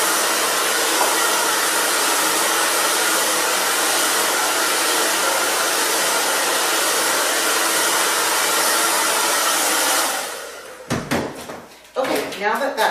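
A hair dryer blows steadily and loudly for about ten seconds while hair is dried with a paddle brush, then cuts off into a few sharp handling clacks and knocks.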